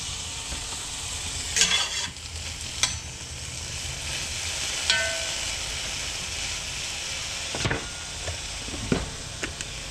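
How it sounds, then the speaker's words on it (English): Rehydrated freeze-dried chicken sizzles steadily in a hot frying pan, a constant hiss broken by a few scraping clinks of a utensil. "add these to our frying pan"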